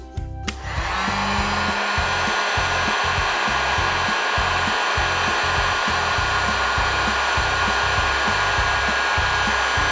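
A heat gun heats a solder seal on the end cap of an electric floor heating cable, blowing with a loud, steady rushing roar that starts abruptly and runs throughout at close range.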